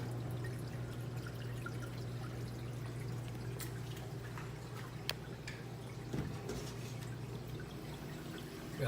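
Water running in the sump of a 90-gallon saltwater reef aquarium at home: a steady, soft rushing trickle with an underlying pump hum and occasional faint drips.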